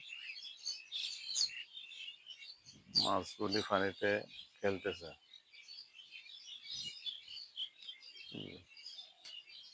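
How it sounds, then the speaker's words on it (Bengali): Birds chirp and tweet at an agro farm on a Friday afternoon, a steady mix of small calls running through the background while people talk loudly nearby at intervals. "পাখির কি সুন্দর আওয়াজ সব পাখিগুলো বোধহয় খুশিতে কিচির মিচির আওয়াজ করতে"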